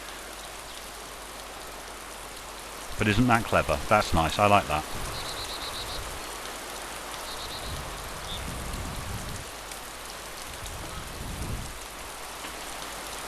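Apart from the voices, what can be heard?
heavy rain in video game DayZ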